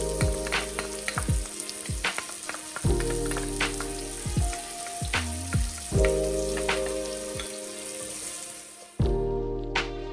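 Garlic and onions sautéing in a hot pan for a weekday pomodoro sauce, a steady sizzle with repeated clanks and scrapes of stirring, a brief quieter stretch near the end before a fresh burst.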